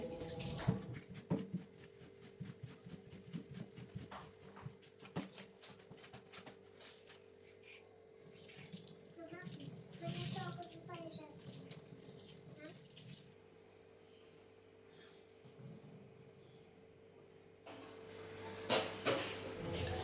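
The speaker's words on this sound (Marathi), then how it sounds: "किचनचं जे क्लोथ असतं तर ते पण मी दिवसातून एकदा नेहमी क्लीन करून ठेवते, वॉश करून ठेवते" A kitchen cloth is washed under a running tap in a home kitchen sink, with a steady hiss of water, splashing and scrubbing, while a voice talks over it before the flow quietens.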